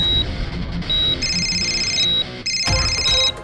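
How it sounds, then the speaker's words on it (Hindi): A telephone rings with a repeating electronic ringtone of bright, steady beeping tones in regular bursts, loud and close over a low background hum, with no voices. "अरे उठा ले फोन।"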